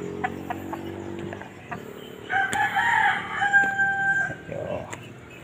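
A fighting rooster crows loudly nearby, a drawn-out call in the middle of the clip, with some faint clucks and background noise around it.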